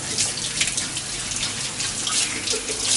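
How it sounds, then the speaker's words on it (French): Tap water runs steadily over a Dyson V15 Submarine roller being rinsed, a close, continuous splashing rush with no speech. "On le passe sous l'eau."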